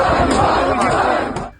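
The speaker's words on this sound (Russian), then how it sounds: "толпа устроила блокировку автомобиля военкомов и кричали уже традиционное «ганьба»" Protest crowd in a Lviv street shouting "shame" at military enlistment officers after blocking their car, a loud, dense mass of voices with rising chanted bursts, close and continuous before trailing off.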